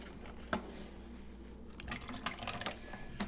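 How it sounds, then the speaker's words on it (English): Passion fruit liqueur and pineapple juice are splashed into a Maui tropical schnapps hurricane cocktail, quiet liquid pouring with a drip or clink near the start and a brief trickle later. "We'll go a splash of passion fruit liqueur, a splash of pineapple."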